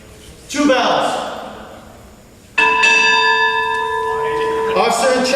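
A ship's bell is struck twice at a military retirement ceremony, each ring bright and loud with a long shimmering decay, the second strike stronger and still ringing as a voice begins speaking over it.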